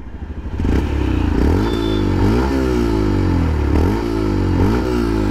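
A Yamaha FZ-S V3.0 150cc motorcycle engine runs steadily close by, a smooth even idle with a few gentle rises in revs and no voices.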